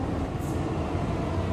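Train rolling along in Call of Duty Warzone, a steady dense rumble of rail noise without any voices, loud and continuous through the short stretch.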